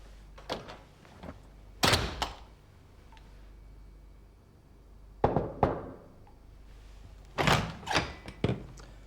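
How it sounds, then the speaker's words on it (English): A heavy lead-lined walk-in fridge door swings shut in several separate bouts, each giving a cluster of loud, close thunks and knocks with quiet pauses between them. No one speaks. "Could you swing the door too"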